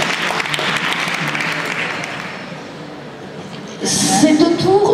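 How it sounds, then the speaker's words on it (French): At the Prix Julia Verlanger literary prize ceremony, audience applause rings out strongly, then gradually fades over a few seconds. Near the end a louder burst of voices and movement takes over. "On applaudit bien fort,"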